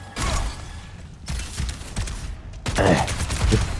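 A soldier character shooting in a video game: loud, rapid bursts of gunfire crackle in two long volleys separated by a short gap, with no voice over them.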